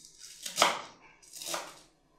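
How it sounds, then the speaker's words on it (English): A knife chops food on a wooden chopping board in two distinct bursts of sharp, close cutting strokes, with no talk over them. "I'll chop it to reduce on the blending time."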